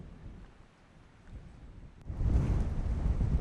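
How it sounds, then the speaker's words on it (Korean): Strong dawn wind buffets the microphone at a dark harbor while waves surge, starting quieter and swelling into a loud, dense roar partway through. "오늘따라 새벽바람이 심상치 않은데요. 파도마저 성난 듯 몰아칩니다."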